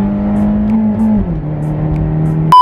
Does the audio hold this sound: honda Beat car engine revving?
yes